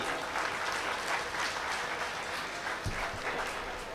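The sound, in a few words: audience clapping at a mushaira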